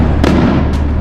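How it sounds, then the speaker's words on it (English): Fireworks rockets bursting over a Mexican town in Guanajuato, a dense, loud crackling roll with two sharper booming pops within a second, no voices. "you might have just heard those rockets going off, and they're not shotguns. They're Fireworks."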